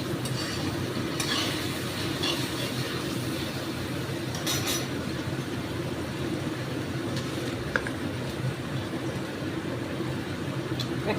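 A fenugreek malai curry simmers and gets stirred in a pan, a steady close bubbling sizzle with scraping stirs and occasional light clicks throughout.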